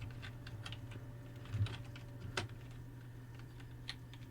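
Soft, quick tapping on a computer keyboard while HTML code is entered, faint and close over a low steady hum, in irregular bursts with a few louder keystrokes.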